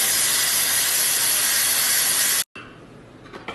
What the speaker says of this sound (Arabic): سكرنا النار، الحين نفرغ البخار، نبي نفتح قدرنا.